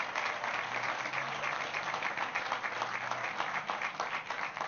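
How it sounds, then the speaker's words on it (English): Audience applause at the public opening of Dilworth Park, a dense, steady wash of many hands clapping that holds at even loudness throughout, outdoors, with faint crowd murmur beneath. "Please give the William Penn Foundation a huge round of applause"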